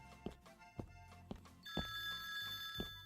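Telephone ringing inside a video game set at a cabin, with electronic bell bursts recurring about once a second and a sustained tonal ring joining partway through, clear and close against low background noise.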